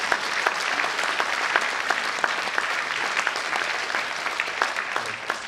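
Applause at a Korean church prayer gathering for peaceful reunification, honoring two pastors: many hands clapping in a dense, steady wash with sharper individual claps poking through, loud and continuous throughout.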